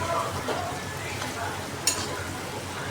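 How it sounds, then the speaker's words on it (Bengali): Ginger and onion paste stirred in hot oil for a mutton curry, with a steady soft sizzle and scraping of the spoon, one brief sharp clink near the middle, heard close and continuous. "আমি এটাকে ভালো করে মেশাতে থাকবো এই পেঁয়াজের মিশ্রণটার সাথে।"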